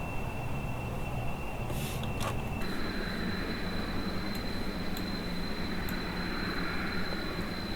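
A fixed-wing airplane's engine drones steadily at a distance, a constant broadband rumble with a thin high whine that shifts pitch partway through, running alone with no voices over it.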